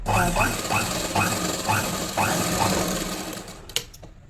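A sewing machine stitches a kurti in a few short bursts, each run of rapid needle clatter stopping and restarting in a steady rhythm, close and clear, with a brief clack near the end.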